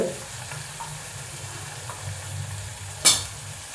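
Asafoetida and then turmeric dropped into hot oil for batata vada, giving a soft, steady sizzle close by, with a sharp clink near the end.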